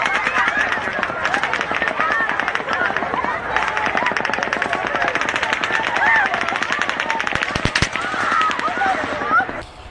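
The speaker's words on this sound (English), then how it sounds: "Here comes the second round of gunfire from the Mandalay Bay." Recording of the Las Vegas Mandalay Bay shooting: dense, continuous bursts of rapid automatic gunfire crackling without pause, loud and echoing from a distance, with people's voices and shouting mixed underneath.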